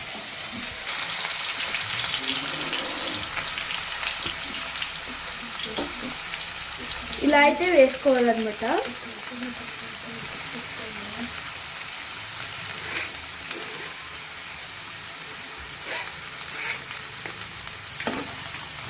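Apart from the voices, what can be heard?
strained potatoes frying in hot oil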